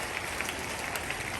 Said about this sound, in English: A big hand clap for St. John's English Medium School.